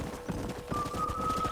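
Horse hooves clip-clop in a steady rhythm while riding in Red Dead Redemption, close and moderately loud over a low ambient game backdrop, with a thin steady tone entering partway through.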